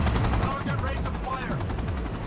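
Gunfire in the video game Cyberpunk 2077, rapid bursts of automatic shots crackling over a helicopter's rotor thrum, dense and loud, with a voice speaking amid the shooting.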